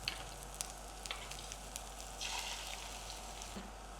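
Egg omelette batter sizzles in a ring on a hot pan, a steady crackling hiss with small pops and a brief louder spatter partway through.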